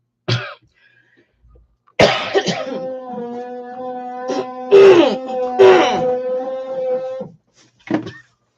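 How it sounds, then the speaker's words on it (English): Several harsh coughs and throat-clearing bursts, close and loud, separated by short pauses, with a strained, groaning voice stretching between them. "It just made me cough."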